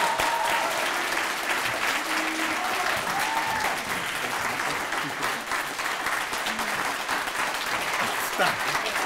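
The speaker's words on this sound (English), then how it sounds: "Let's give him a round of applause." Dinner audience applauding an award recipient at an annual celebration, sustained dense clapping throughout with faint voices and a few whoops mixed in.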